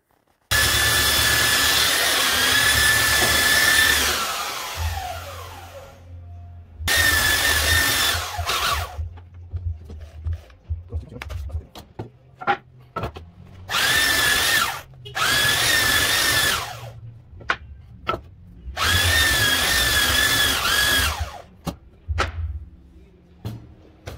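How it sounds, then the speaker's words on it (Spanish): A belt sander roars in long, loud passes over wood boards, stopping and restarting several times with short bursts in between. "Voy a lijar algunas tablitas a ver cómo trabaja."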